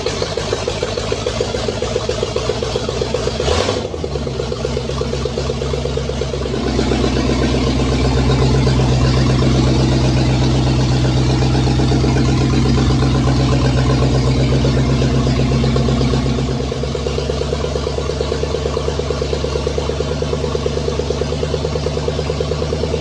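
A 1968 Pontiac Firebird with a 350 V8 fires up for the first time after rewiring, then settles into a steady, loud, close idle with a slightly rough mechanical clatter; no one speaks.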